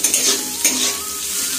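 Onions dropped into hot oil in a cooking pan, a soft sizzle mixed with clinking utensil and stirring sounds, one sharper burst partway through.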